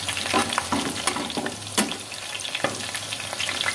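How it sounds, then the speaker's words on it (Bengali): Chicken pakoras fry in oil in a home kitchen, a loud, close, crackling sizzle broken by repeated scraping strokes of a spoon, with no one speaking. "অল্প অল্প করেই ভাজছি"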